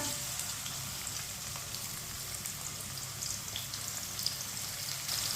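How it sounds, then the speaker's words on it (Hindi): Chopped onion fries in a pan with whole coriander, a soft, even sizzle and crackle with occasional small pops, steady and fairly quiet, with no talking. "प्याज को हल्का सा ब्राउन कर लेंगे।"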